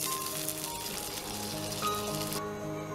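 Pointed gourd (potol) lightly frying in a pan, a close, steady crackling sizzle with fine popping that continues evenly throughout, with no one speaking.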